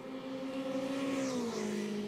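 A Formula 3 race car runs down the back straight of a wet Nürburgring, its engine a steady high whine that drops in pitch near the end as it passes, loud and without speech.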